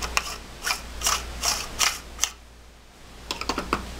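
A pommel is screwed onto a saber staff hilt, giving a series of sharp, ratcheting clicks in a steady rhythm, then a short pause and a final cluster of clicks, close up with no talking.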